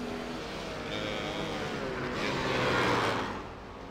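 GT3 race cars on the Zandvoort circuit roar past in a steady engine drone that swells into a louder, closer pass near the end before easing off.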